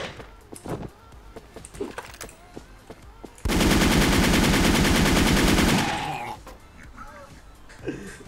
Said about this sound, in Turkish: Adam zıplayarak vurdu, sabahtan beri arkasından tarıyorum ha.